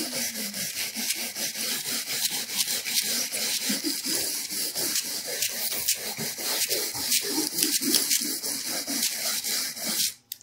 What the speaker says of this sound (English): And then we grab our scrubber brush.